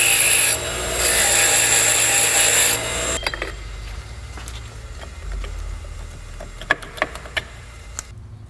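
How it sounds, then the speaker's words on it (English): A wire wheel brushing a suspension part from a 1998 Chrysler Town & Country, a loud harsh whirring grind for about three seconds, then quieter scraping and a few sharp knocks, close by, with no voices. "I'm gonna wire wheel this a little bit."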